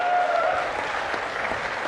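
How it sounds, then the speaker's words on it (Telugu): A crowd at a public meeting in Kaikaluru with Chief Minister Chandrababu Naidu bursts into sustained applause, a thick, even wash of clapping from many people that fades slightly toward the end. "గట్టిగా చప్పట్లు కొట్టి అభినందించాలి."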